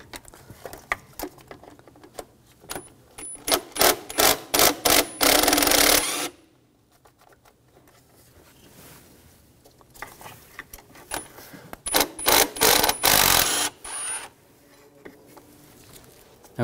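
An 8mm socket on a ratchet works bolts loose from a 2013-2019 Ford Escape 2.0L transmission mount, with bursts of rapid close clicking separated by quiet pauses.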